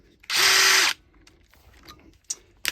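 A power drill whirs loudly in one steady burst of about half a second while fitting a new lock on big gates, followed by quieter clicks and handling noises and two short sharp knocks near the end.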